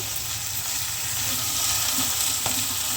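Beetroot and carrot curry with spices frying in a pan, a loud continuous sizzle and hiss with a slow stirring scrape near the end, close and without talk.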